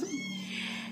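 A tiny found kitten gives one drawn-out, high meow, close by and fairly loud, with no voices over it.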